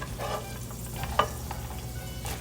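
Fresh green beans tipped into a hot pan, a soft sizzle and light frying crackle with a stirring clink or two, close and fairly quiet.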